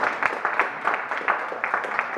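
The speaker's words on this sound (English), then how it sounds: "Give yourselves a round of applause." An audience gives itself a round of applause, a short steady patter of many hands clapping at moderate loudness, with no speech over it.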